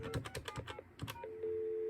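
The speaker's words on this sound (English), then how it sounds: "We're expected to dial a passcode." A quick series of DTMF keypad tones beeps in rapid succession as a passcode is dialed on a custom TDM telephone switch, then gives way to a steady, continuous dial tone.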